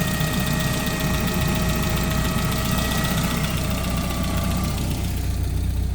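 1992 Volvo 460 turbo engine idling cold, a steady close engine drone carrying a thin, sustained high-pitched whine over the rumble, with no voices.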